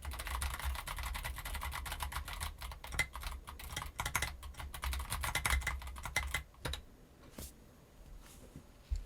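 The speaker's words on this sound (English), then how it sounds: "Let's see if it picks up my keyboard well." Steady, rapid keyboard typing picked up by a Fifine K678 microphone, close and continuous clicking for several seconds before it tapers into a few sparse keystrokes and a quiet room.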